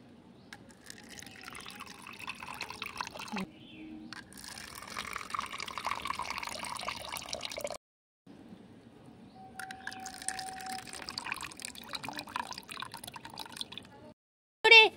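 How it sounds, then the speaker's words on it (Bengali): Mango sherbet poured into cups, several separate bursts of trickling liquid and drips, soft and close, with short silent gaps between pours. "এরপরে কাপে কাপে ঢেলে দিই।"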